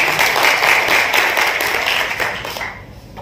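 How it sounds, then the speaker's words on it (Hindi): Audience applause at a resort celebration event in Dhule, a steady dense wash of many hands clapping together, loud and close, fading slightly toward the end. "और मैं चाहता हूँ खुद के लिए एक बार तालियां बजा"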